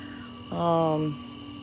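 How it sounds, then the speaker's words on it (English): Crickets chirp at night in a Louisiana swamp, a steady high-pitched drone throughout, with a brief lower tonal call rising over it midway. "Lots of crickets."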